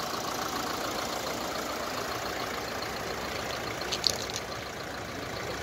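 A used light truck engine idling at a roadside sale lot in Osh, a steady low mechanical hum and rumble throughout with no talk.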